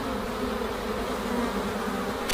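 A dense, continuous buzz of a huge swarm of bees covering a man's body, loud and close throughout.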